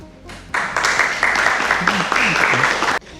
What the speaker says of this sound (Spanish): Solicitamos un fuerte aplauso para recibir a nuestros distinguidos expositores